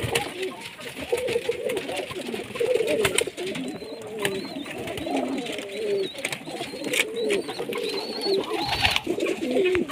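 A flock of large-size pigeons kept for sale in Multan coos in repeated throaty rolls, layered and close, while someone talks over them.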